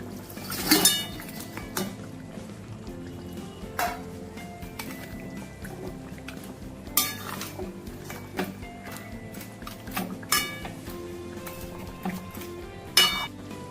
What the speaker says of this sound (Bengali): ভেজে রাখা ভেটকি মাছের কাটাগুলো দিয়ে দিচ্ছি